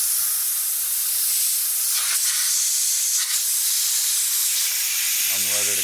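A steam cleaner blasts the brake caliper of a BMW F10 M5 with loud, continuous close hissing, swelling in brief bursts, with a low mechanical hum surfacing near the end.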